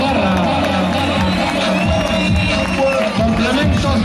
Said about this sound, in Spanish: Faltan los aplausos de esta gente que nos acompaña esta noche aquí en Órgiva